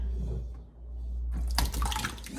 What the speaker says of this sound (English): I'm going to pour my yogurt into that